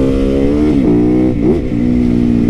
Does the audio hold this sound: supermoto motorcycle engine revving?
yes